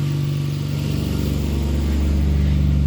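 A repaired Mitsubishi Eclipse engine idles steadily, a continuous low rumble with a faint rising hum, close and alone with no talk.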